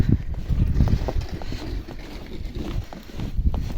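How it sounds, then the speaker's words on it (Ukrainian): Steady gusting wind with blowing snow roars across the microphone outdoors, a continuous low rumble with buffeting bursts and no voices. "Сніжок мете і вітер. І знову вітер."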